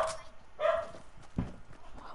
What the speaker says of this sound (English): my dog keeps on barking